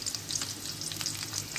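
Chopped onion frying in a pan for a mixed rice-and-lentil khichuri, a dense, even sizzle close by with faint stirring clicks, continuous and fairly loud, no voices.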